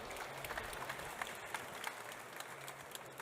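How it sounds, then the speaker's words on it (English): Faint applause from an audience at the 2019 Suzuki Katana motorcycle unveiling, a steady patter of clapping from a distant crowd, heard without voices. "Round of applause"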